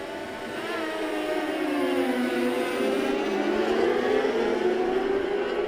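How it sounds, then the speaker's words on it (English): Distant Pro 600 sport bikes racing at the Autodrome in a 2014 Canadian Superbike round drone and whine, their engine pitch shifting steadily as they pass at speed, with no talking. "18 laps of sport bike racing await us"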